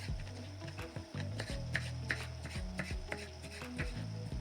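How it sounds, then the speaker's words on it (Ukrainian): Small pickled cucumbers being cut with a knife for a herring salad, quick soft taps on a board over a low background hum, fairly faint and irregular, with no speech. "Також нарізаємо мариновані огірки."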